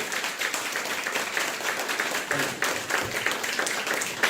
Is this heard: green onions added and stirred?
no